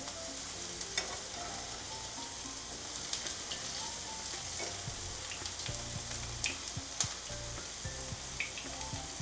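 Cabbage Manchurian shallow frying in oil over a low flame, a continuous soft crackling sizzle with scattered small pops, steady and fairly quiet throughout, no voices.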